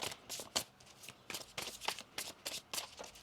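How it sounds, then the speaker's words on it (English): Quick, crisp tarot card shuffling close up, a rhythmic series of soft slaps and riffles repeating steadily, with no talking. "One more shuffle here."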